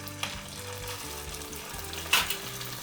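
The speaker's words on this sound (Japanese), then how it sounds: "この揚げ焼きにしてるような、揚げ物をしてるような音" Supermarket beef steak searing in a hot frying pan that is lightly smoking, giving a steady, close frying sizzle with a few brief louder spits and pops and no talking.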